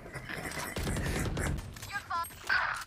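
Several gunshots fire in quick succession close by during what sounds like a clay pigeon shoot, sharp cracks that blend into a rattling burst, with voices talking over them.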